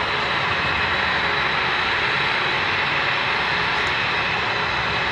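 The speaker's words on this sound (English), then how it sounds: "Get your cameras ready from the left, ladies and gentlemen. The P-51 Mustang." A P-51 Mustang, the World War II and Korean War fighter plane, roars steadily overhead at a military base airshow, its engine a loud, continuous broadband drone throughout.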